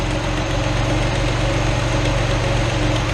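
A carbureted 1981-85 Ford Mustang engine idles steadily at about 800 RPM, a close, continuous low rumble with an even pulse and no speech.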